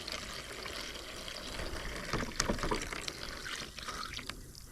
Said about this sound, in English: Let's just top it off with water.